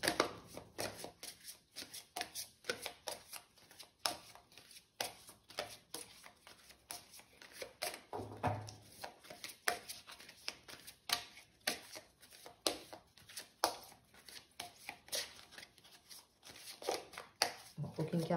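Tarot cards being shuffled by hand, a steady run of soft papery flicks and riffles at close range, with occasional quiet talk underneath.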